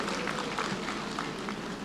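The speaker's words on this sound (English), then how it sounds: "Give them a warm round of applause." Applause from a convocation audience for a band, a brief, fairly faint wash of clapping that holds evenly throughout.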